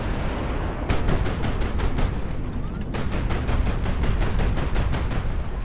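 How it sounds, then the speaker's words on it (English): A ship in the Highfleet video game takes a missile hit amid continuous battle din, with repeated sharp blasts and gunfire bursts landing in a steady, rapid rhythm over a dense rumbling bed. "Took a missile hit there, unfortunately."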